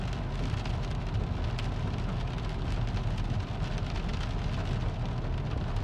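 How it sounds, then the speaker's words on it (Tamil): Heavy rain pours in Canada, a dense, steady roar of drops on surfaces with a faint rumble of passing traffic beneath, continuous and fairly loud throughout. "இங்கே பாருங்க என்ன மாதிரி மழை பெய்கின்றது."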